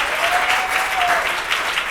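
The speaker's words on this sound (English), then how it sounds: "Clap your hands like that's going to happen." An audience claps hands steadily and loudly at a motivational speech, a dense continuous wash of applause with no voices.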